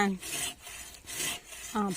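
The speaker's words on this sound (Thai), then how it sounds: "เลื่อยเลื่อย เป็นท่อนๆเลื่อยเสร็จก็เอามา" A hand saw cuts golden shower tree wood into sections, close rasping back-and-forth strokes in a steady rhythm of about three pulls, with a voice briefly at the start and end.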